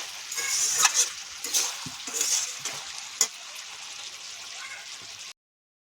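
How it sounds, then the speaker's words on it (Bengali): Cauliflower, potato and small rohu fish curry sizzles and spits in a pan as a little water is added, a soft crackling frying hiss with brief splashes before it settles and cuts off. "এমনি করে কষে নিয়েছি এবার জল দেবো অল্প করে"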